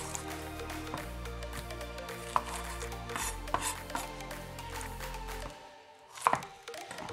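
A knife chops an onion on a cutting board in steady rhythmic strokes, close and clear, with a brief clatter near the end as pieces are moved; no one speaks.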